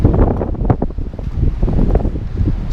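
Strong wind buffeting a microphone beside a carp fishing lake in France on a Sunday afternoon, a continuous loud rumbling gusty roar with no pauses.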